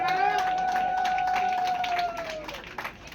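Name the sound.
audience clapping at inauguration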